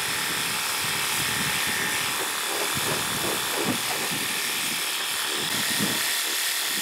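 A Worx Hydroshot cordless pressure washer sprays steadily and close by, a continuous broadband hiss of water jet with a rough, fluttering texture, running alone for several seconds.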